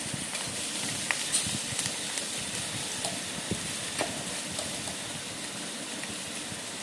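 Chillies stir-fry in a pan over a low gas flame, giving a steady soft sizzle with scattered light scraping and clinking from stirring, faint and continuous throughout.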